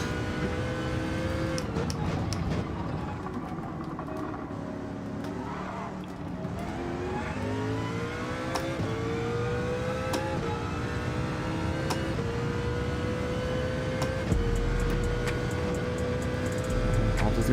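Race cars in Gran Turismo 7, among them a CLK, hold a continuous engine whine that climbs and falls through gear changes, with sharp clicks scattered over the steady roar.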